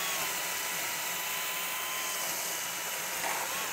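Power screwdriver driving a screw into the timber frame around a wooden window in a timber-frame wall, a steady high whining motor with a gentle pitch sweep, close and continuous.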